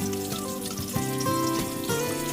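Milkfish (bangus) frying in hot oil in a pan, a steady close sizzle with crackling pops and a continuous hiss throughout, no one speaking.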